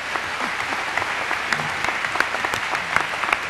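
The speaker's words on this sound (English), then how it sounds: "Are we applauding ourselves?" Steady applause from a lecture audience filling a room, dense clapping that holds evenly throughout without any voices standing out.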